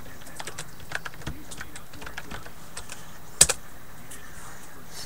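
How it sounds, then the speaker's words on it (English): Computer keyboard typing picked up as a scattered series of light, fairly faint key taps over a low background hum, with one sharper double clack near the middle. "I'll just type it for him."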